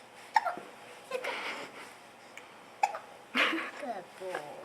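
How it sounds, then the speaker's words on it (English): A baby hiccups several times in short, soft isolated bursts, quiet and close, with an adult's gentle voice speaking between them. "Hiccup."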